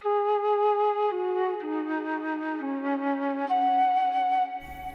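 A breathy Mellotron M4000D flute tone plays a slow descending then rising melody, sustained notes trailing off in spacious reverb.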